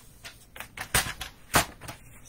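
White cardstock sheet being cut, a series of sharp, close snips and crisp slicing strokes in an irregular rhythm, fairly quiet with no talk.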